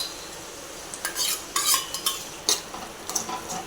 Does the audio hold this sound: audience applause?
no